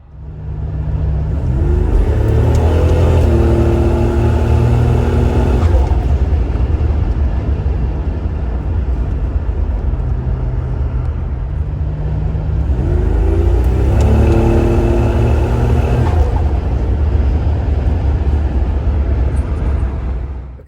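Turbocharged Buick Grand National engine during two hard tuning pulls, each a loud close roar that climbs in pitch through the revs, eases off, then builds again.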